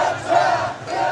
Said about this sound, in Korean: 우렁찬 함성 속에 있는 힘껏 줄을 당기며 모두가 한마음이 되는 축제의 한마당.